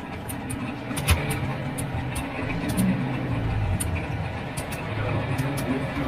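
A car driving along a road gives a steady low rumble of engine and tire noise, moderately loud and continuous, with a few faint ticking sounds on top and no clear speech.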